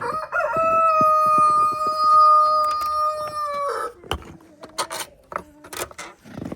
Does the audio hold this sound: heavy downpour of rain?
no